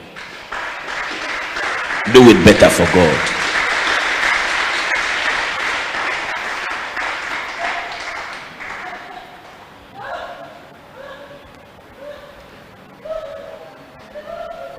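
A church congregation claps together as an offering to God at a revival service, a loud burst of applause mixed with shouting voices, then fading as a single voice speaks over scattered sound.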